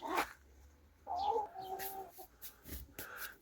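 Hens clucking in a farmyard where they are laying eggs, a few short calls and a sustained cackle heard close by with small rustles between, no talk.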